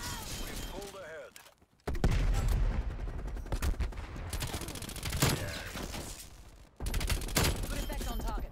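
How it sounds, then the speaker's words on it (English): Sniper fire in a Call of Duty Cold War multiplayer hardpoint match: several loud sharp gunshots and bursts of firing with abrupt cracks and brief gaps, mixed with game announcer voice callouts. "Enemy sniper shooting."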